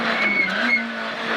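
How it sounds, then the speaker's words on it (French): Rally car on a special stage with its wheels spinning, a loud, sustained high engine whine with a steady tone held through the whole brief moment, heard alone without talk. "Elle patine là, non? Eh oui, elle patine tout le temps."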